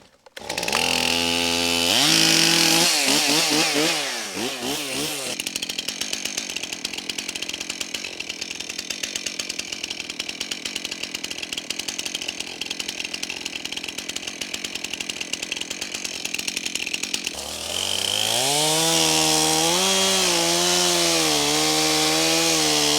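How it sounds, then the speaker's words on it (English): A chainsaw revs up in bursts, then bites into wood with a long, steady buzzing cut before revving loudly again, close and alone. "Let's get the chainsaw out."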